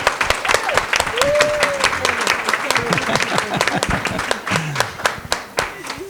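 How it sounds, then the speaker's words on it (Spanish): An audience claps loudly and densely at a live event in Spanish, with sharp individual claps close by across the whole stretch and voices talking underneath. "Démosle un fuerte aplauso."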